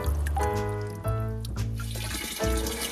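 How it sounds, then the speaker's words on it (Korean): Clear water gushes from a newly turned-on household tap on Jeju Island, a steady, full rushing pour that stays loud and continuous throughout with no voices. "이제 수도꼭지를 틀면 쏟아지는 맑고 깨끗한 물"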